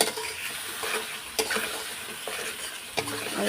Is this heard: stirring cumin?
yes